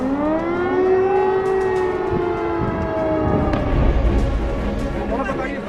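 A civil defense air raid siren wails loud and sustained, its rising and falling tones sweeping across several overlapping pitches.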